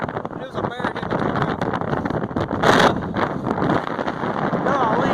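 Strong wind gusting across a rooftop during a windstorm, a steady broadband roar that swells into a louder blast midway, with someone talking over it throughout.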